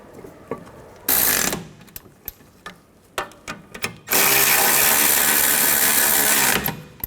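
Tool noise rings out while the brake bracket bolts go back in on a 2004-2010 Toyota Sienna rear hub: a short loud whir, scattered ratchet clicks, then a long sustained mechanical buzz, all close.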